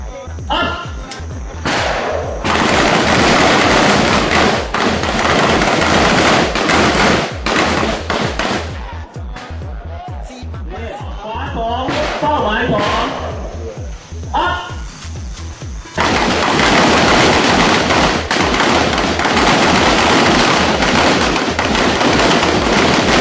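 Rapid gunshots at a shooting range drill, loud dense cracks and thuds firing in bursts, a short lull in the middle before heavy fire resumes, with people talking and shouting over it.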